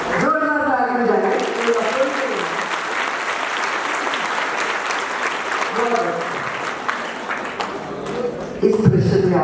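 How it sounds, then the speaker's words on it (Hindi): Large audience at a Mahashivratri celebration gathering in Mahim bursting into loud, sustained applause and cheering that fills the room, with a speaker's voice heard at the start and end. "जोरदार ताली बजाएं।"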